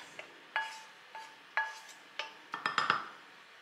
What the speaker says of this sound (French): au moins je lave tout de suite ma casserole